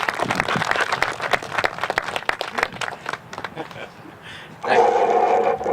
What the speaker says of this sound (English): Give him a round of applause as he comes up here